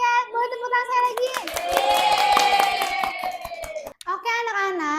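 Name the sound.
children clapping hands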